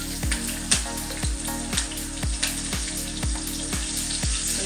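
Green chilies frying in hot oil for vatana upma, a constant close crackling sizzle with a repeating rhythmic clatter pulsing through it, no voices.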